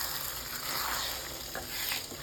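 Cauliflower egg bhurji is stirred in a hot pan, a continuous sizzle with soft scraping strokes of the spatula swelling and fading, heard close with no speech.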